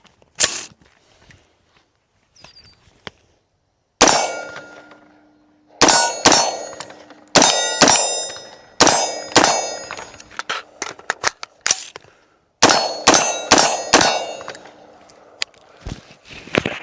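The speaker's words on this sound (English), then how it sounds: "so you can see what a traditional reload would look like" A traditional AR rifle has its magazine swapped and reloaded, producing a series of sharp metallic clacks and clangs from close by, sparse at first and then coming in rapid, ringing bursts.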